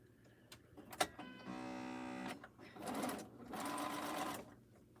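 A quilting sewing machine, not freshly oiled, runs in a steady mechanical whir for about a second, followed by bursts of stitching and fainter motor noise in a quiet room.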